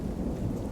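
A short burst of rainstorm sound from the game Outbound: a low thunder rumble under steady rainfall, close and quiet.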